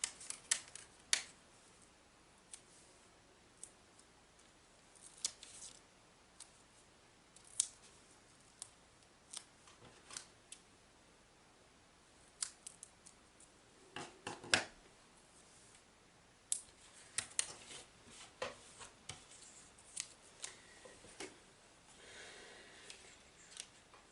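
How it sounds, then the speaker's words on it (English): Teflon scissors snip paper for a holiday scrapbooking layout, a long run of sharp, close cuts in irregular clusters, some quick and light, others louder and crisper, with quiet gaps and no talking. "this is where your Teflon scissors come in really handy"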